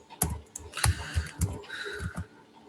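Several quick, uneven keystrokes clatter on a computer keyboard, close and crisp, in short bursts with brief pauses and no talking.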